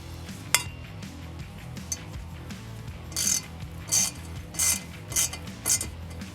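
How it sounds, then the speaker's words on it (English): A hose clamp is tightened on a cold air intake in a 2006-2010 Dodge Charger 3.5L engine bay, heard as a close series of short metallic ratcheting bursts at a steady pace. "Tighten the clamp up."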